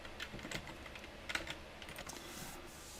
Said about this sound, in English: simply click on the cell and start typing